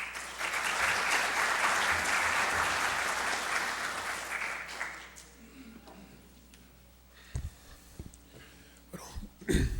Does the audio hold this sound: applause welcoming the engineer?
yes